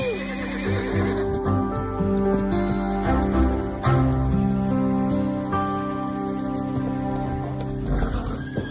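A horse neighs loudly and its hooves clip-clop, mixed with dense layered tones and a rain-like patter, with no talking.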